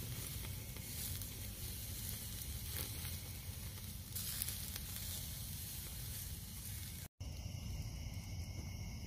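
Steak seasoned with garlic powder and Montreal steak seasoning sizzles steadily on a grill outdoors, a constant hiss that runs the whole time with no voices.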